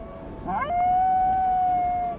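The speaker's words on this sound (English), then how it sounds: "Its howls grew more desperate." A lone, lost wolf pup gives a single long, steady howl that rises sharply, then holds a clear sustained pitch, loud and close with no other sounds.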